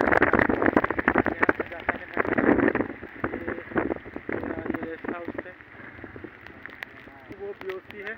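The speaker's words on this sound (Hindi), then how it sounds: "यहाँ पर पूरा बारिश करते हुए क्या बताए" Rain drumming on a vehicle during a wet road drive in Nagaland, with wind rushing over the microphone while someone talks over it.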